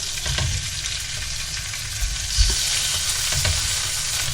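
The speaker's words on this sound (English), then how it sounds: "nice hot pan, you hear the sizzle." Chicken sizzling loudly in a hot pan, a constant crackling hiss with occasional scrapes and knocks as pieces are moved around.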